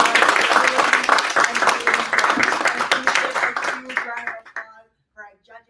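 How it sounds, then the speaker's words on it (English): Audience clapping for the finalists at a gaming pitch competition, dense and steady under music-like tones, then thinning and dying out near the end. "Can we give a huge round of applause to all of the finalists?"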